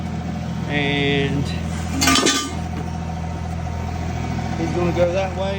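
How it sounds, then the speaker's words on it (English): A tractor engine idles in a steady low drone while hooked by a strap to a 1984 Oldsmobile Cutlass Supreme, with someone talking over it and a short metallic clink partway through. "Strap is hooked to the tractor. My boy's driving the tractor."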